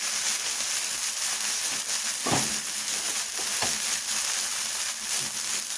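Onions sizzling on a Blackstone 36-inch griddle, a continuous faint hiss and crackle with a few soft scraping taps, no talk.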